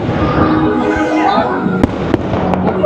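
Fireworks at Magic Kingdom boom and crackle loudly through a dense wash of noise, with several sharp bursts toward the end and voices mixed in.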